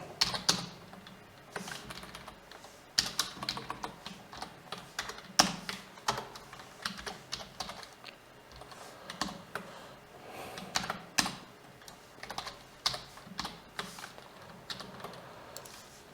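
Steady stream of keystrokes on a computer keyboard as HTML code is typed, with irregular bursts and short pauses, close and moderately loud, no talking.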